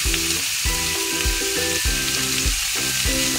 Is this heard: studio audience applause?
no